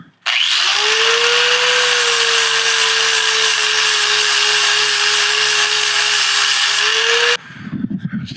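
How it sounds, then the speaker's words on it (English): Flap disc grinding a bevel into brake parts for a Studebaker disc brake conversion, a loud, steady high-pitched whine held for about seven seconds before the grinder winds down. "I'm just going to go ahead and take a flapper and kind of put a bevel from about right here all the way up to right in here somewhere"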